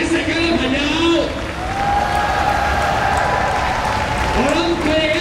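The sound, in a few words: audience applause at a rally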